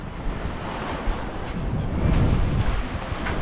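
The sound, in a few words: wind and waves while sailing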